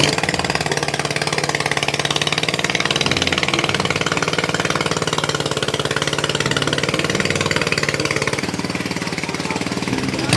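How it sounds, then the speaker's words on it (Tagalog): An engine-driven pump draining water from a fishpond during a harvest of tilapia, milkfish and mud crab, a loud, steady mechanical drone with a rapid chugging pulse throughout. "ginagamitan nga nila ng makina para makuha yung tubig"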